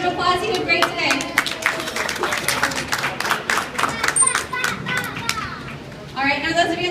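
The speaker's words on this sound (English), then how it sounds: "give him a big round of applause." Audience applause for Khyber, a 21-year-old, 520-pound dolphin, at a dolphin window presentation: scattered clapping mixed with excited children's voices and crowd chatter, moderately loud and continuous.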